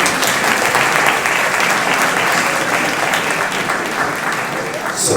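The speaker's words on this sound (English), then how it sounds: "Can you give them a round of applause?" A packed room at a newspaper's 50th anniversary event at the Carnegie breaks into sustained applause, many hands clapping in a continuous, even roar lasting around five seconds.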